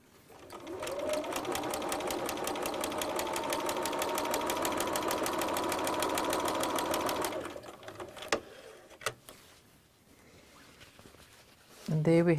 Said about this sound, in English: because my needle's down, nothing's moved, I'm just going to carry on stitching